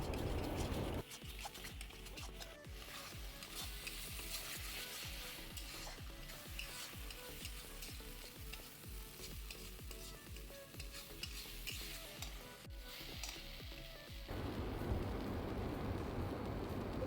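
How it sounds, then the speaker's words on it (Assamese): Continuous crackling sizzle of curry paste frying in a pan, with rapid ticking stirs throughout and a softer hiss at the end. "আঞ্জাখন মই আৰু 7 মিনিটমান ভালকৈ ভাজি ল'ম"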